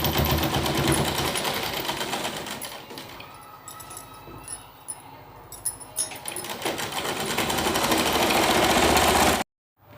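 A sewing machine stitches a petticoat waistband with a continuous close mechanical whir. It slows and thins partway through, then runs fast again before cutting off abruptly near the end.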